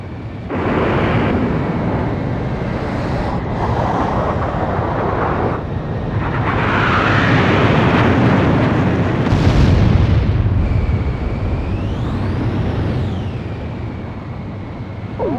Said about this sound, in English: The SSTO is climbing smoothly.